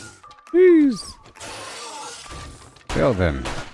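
Glass shattering in the video game 7 Days to Die: a loud, bright crash of breaking glass bursts in near the end, after a voice and other game noises.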